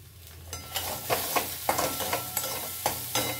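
Food being stirred and mixed with salt in a sizzling pan, a soft frying hiss under repeated scraping strokes of a spoon, about a dozen rhythmic stirs close up with no speech.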